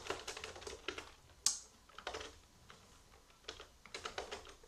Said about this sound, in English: keep on typing here.